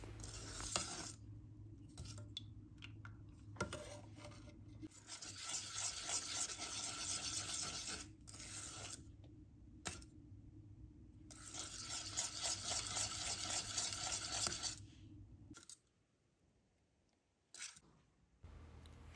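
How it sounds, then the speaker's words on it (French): Béchamel sauce thickening over low heat while a whisk or spoon stirs steadily against the pan, a close continuous scraping swish that pauses briefly now and then and fades out near the end. "je laisse épaissir la sauce à feu doux"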